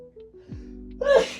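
One close, sharp sneeze bursts out near the end after a quiet stretch with faint background tones.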